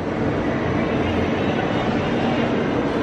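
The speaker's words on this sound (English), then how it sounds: "one of the very unique features of the Contemporary Resort is that the monorail runs through it" Disney monorail rolling through the Contemporary Resort, a steady loud rumble of the train passing close by, continuous for the whole stretch with no talk.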